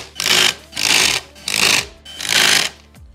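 A cheap impact wrench tightening a bolt on a motorcycle clutch during installation, four loud sustained buzzing bursts of about half a second each with short gaps, close by and without talk.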